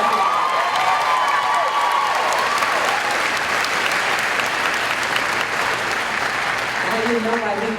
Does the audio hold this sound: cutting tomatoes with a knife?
no